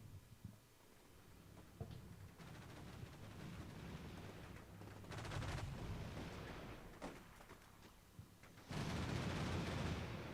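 Enemy gunfire and distant booms from Combat Mission: Shock Force 2, with muffled rumbling shots and explosions rolling through a battlefield ambience and a heavier burst near the end.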